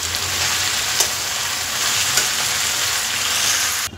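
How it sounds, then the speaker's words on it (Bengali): Malabar spinach greens fry in oil from a hilsa fish head, giving a loud, unbroken close-up sizzle with a couple of faint clinks before it cuts off sharply. "পুঁই শাকটা দিয়েও ভালো করে চাপা দিয়ে ভাজবো।"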